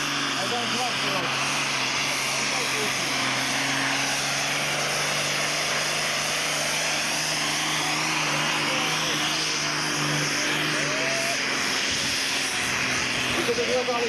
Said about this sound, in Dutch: En kijk eens naar deze trekker wanneer die gaat starten.